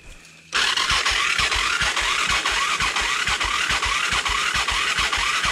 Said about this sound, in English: you want me to push you, bump start it?